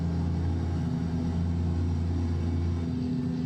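Steady low road rumble and wind roar fill the open-windowed cab of a Kenworth W900 truck in American Truck Simulator, a constant droning hum with no talking.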